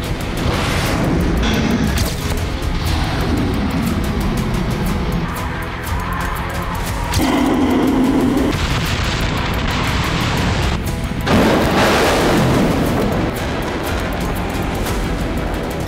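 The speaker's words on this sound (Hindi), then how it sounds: "एक कैलिबर क्रूज मिसाइल फायर की गई" A Kalibr cruise missile launching from a Russian warship during a naval exercise: a loud, continuous roaring rush with broadband boom-like surges, sustained throughout with no talk.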